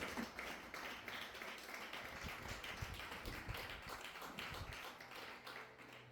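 A church congregation claps and applauds the Lord during a Thursday worship service, a steady dense patter of many hands filling the room at moderate distance, continuing without a break.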